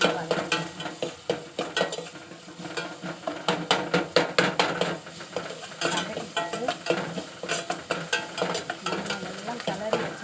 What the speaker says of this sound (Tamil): கொத்து கருவேப்பிலை அதையும் போட்டு நல்லா வதக்கிக்கணும்.